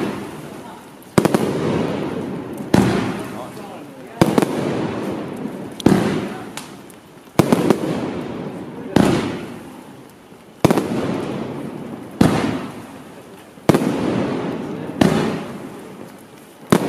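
Celtic's Lush firework cake, a 40-shot, 30 mm barrage, fires loud booming shots about every one and a half seconds, each with a crackling tail that fades before the next launch, with no voices.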